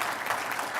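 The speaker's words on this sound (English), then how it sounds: "let's give her a round of applause for," Audience applause at a BSides Las Vegas security and hacker conference, a steady wash of many hands clapping throughout without talk.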